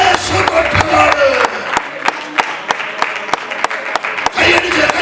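A worship congregation claps hands in sharp, uneven bursts, close and fairly loud, mixed with a preacher's voice and crowd noise.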